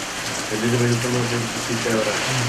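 Heavy storm rain falls in Palakkad district, Kerala, a dense steady hiss under a voice talking.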